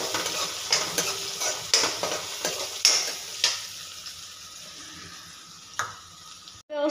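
A spoon stirs turmeric into masala frying in a pan for dhaba-style garlic spinach, making close, repeated scraping strokes over a low sizzle that fades toward the end.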